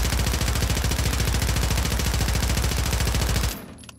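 AMR 9 rifle firing full-auto in a Modern Warfare 3 firing range, a loud continuous stream of rapid, evenly spaced shots that cuts off sharply near the end, leaving a brief tail.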